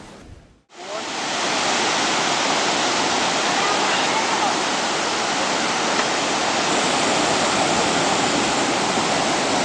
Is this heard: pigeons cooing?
no